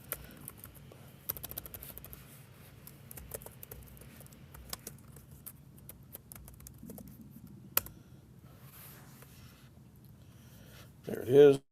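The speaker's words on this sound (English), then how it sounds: "If I can type." Fingers type on a computer keyboard in bursts of quick, light clicks with short pauses, close to the microphone, before a louder voice cuts in at the very end.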